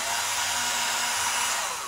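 A power drill whirring steadily at high speed while boring through an SRC XM8 rail, a continuous close, even whine lasting a couple of seconds with no talk.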